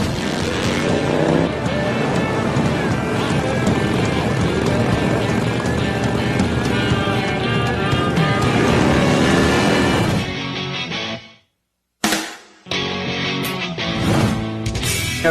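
Harley-Davidson Dyna motorcycles with outlaw-style builds roar loudly and continuously as they ride, a dense engine rumble that cuts out abruptly near the end, then surges back in short bursts.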